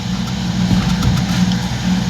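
A Viro goods vehicle used for Porter deliveries runs with a steady, close, mid-pitched engine drone that swells slightly as if lightly revved, with no speech.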